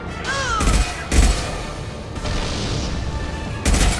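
Gunfire in the video game Mass Effect 2 comes as several loud, heavy bursts of shots and booms with short pauses between them. Rumbling battle noise fills the gaps, and a faint synthetic whine sounds early on.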